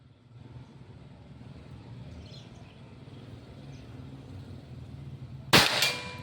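A single sharp shot from a Pajero Gun Gen 6 PCP air rifle cracks out near the end, loud and close, during an accuracy test, after a stretch of low steady background rumble.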